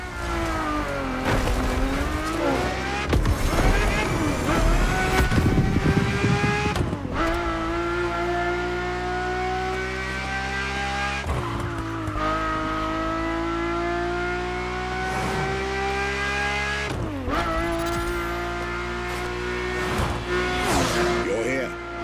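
Ferrari F50 supercar in the racing game The Crew Motorfest, its engine revving in rising and falling sweeps with gear changes and brief tire squeals, loud and close, with a voice talking over it.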